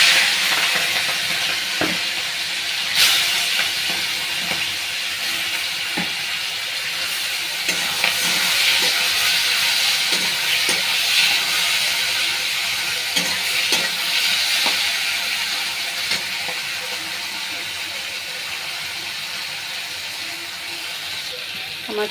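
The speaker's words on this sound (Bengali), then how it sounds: "আমার চিংড়ি মাছগুলো ভাজা হয়ে গেছে" Prawns marinated in salt and turmeric sizzle steadily in hot oil for the whole stretch, a dense continuous crackle with brief louder pops and faint stirring, while a voice talks quietly in the background.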